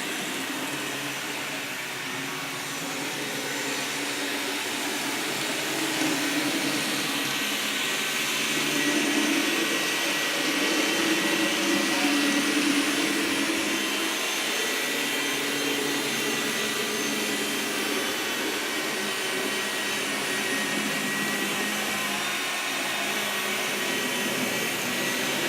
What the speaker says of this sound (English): Now I did take the vacuum cleaner to what upper level track that I could reach.